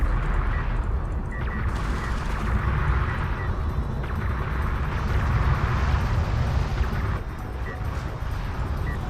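Railgun fire in a Homeworld: Deserts of Kharak battle, a dense continuous barrage of overlapping shots and impacts with a steady loud roar throughout.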